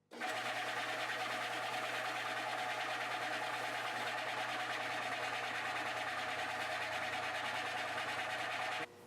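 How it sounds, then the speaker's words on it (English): A radius disc sander runs steadily as it sands the fret ends on a Martin D-35 acoustic guitar, giving a continuous, loud, even whir with a low hum that starts abruptly and cuts off near the end, with no talk. "So back to the radius disc sander."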